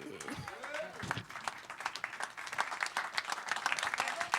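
An audience applauds at a national slam poetry final, a crisp rattle of many hands clapping that swells and thickens over several seconds, with voices and an amplified announcer speaking over it.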